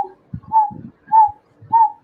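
A voice imitates the call of a coppersmith barbet, the bird once heard at dawn beside a pond: three evenly spaced, hollow whistled notes with soft breathy sounds between them, close and fairly loud.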